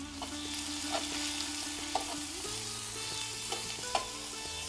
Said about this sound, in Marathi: कांदा चांगला लालसर होईपर्यंत भाजून घ्यायचा.